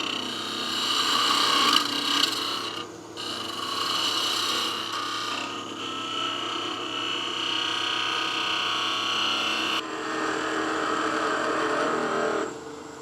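A wood lathe makes heavy shaping cuts on a salt and pepper mill blank, a loud sustained scraping hiss with a steady motor hum beneath and brief dips where the tool lifts off the spinning wood.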